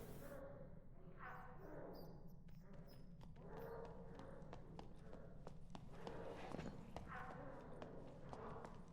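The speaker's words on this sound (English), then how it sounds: "I'm definitely hearing footsteps" Footsteps in the game Dark and Darker, a series of soft, rhythmic clip-clop thuds fairly close by, running steadily under low game ambience and occasional clatter.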